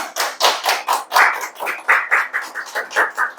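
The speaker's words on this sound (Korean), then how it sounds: "박수 한번 주실까요?" Audience members at a lecture clap in a loose, fairly slow rhythm. Individual hand claps are loud and distinct, suggesting a small group close by, with no voices over them.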